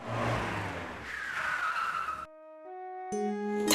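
A car brakes hard to a stop with tires skidding and squealing, a rough, fairly loud screech lasting about two seconds before it cuts off. Steady electronic tones follow.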